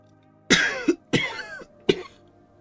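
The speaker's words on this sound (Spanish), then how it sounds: "Ella tose incontrolablemente entre palabras" A woman coughs uncontrollably in three harsh, close bursts, with two rapid coughs followed by a single final cough after a short pause.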